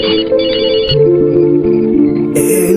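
A telephone ringtone plays loud and continuous in a film scene, a bright electronic melody stepping through repeated tones with no gaps.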